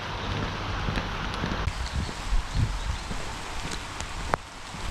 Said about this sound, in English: The rain has intensified,